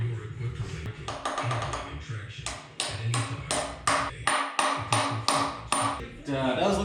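Repeated metal-on-metal hammer blows drive a bronze bushing into the back of a crankshaft in a boat engine being fitted with a Corvette six-speed manual transmission. More than a dozen sharp, ringing strikes land in a steady rhythm close by.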